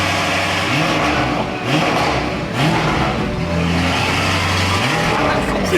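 A damaged Lamborghini Urus drives with a loud engine that revs hard, its pitch climbing and dropping through repeated gear shifts. The roar is constant and close, with a brief dip near the middle.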